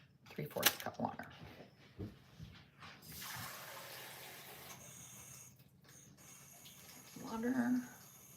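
Tap water running into a measuring cup for taco seasoning in a home kitchen, a steady broadband rush lasting a few seconds, with people talking before and after it.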